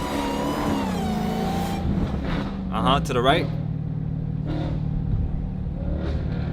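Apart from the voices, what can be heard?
Dodge Challenger and Charger engines revving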